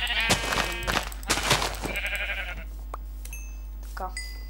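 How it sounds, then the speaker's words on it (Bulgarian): Sheep in Minecraft bleat several times in quick, wavering cries, close and clear, over a low steady hum, with a few quieter game sounds afterward. "има овце"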